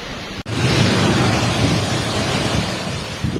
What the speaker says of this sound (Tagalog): Halos lamunin ng naglalakihang daluyong o storm surge ang mga bahay sa tabing